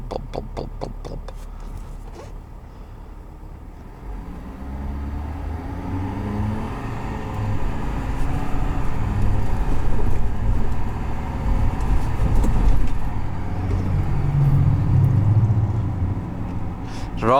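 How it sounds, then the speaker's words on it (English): A 2021 Ford F-350 STX with a Powerstroke diesel engine idling: a steady, low rumbling drone, close and continuous, with a brief clatter at the start. "I love diesels at idle. Oh, they're such a nice sound."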